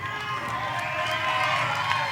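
A crowd at a Little League World Series regional baseball game cheers and applauds in a steady, sustained roar of mixed voices and clapping heard from the stands.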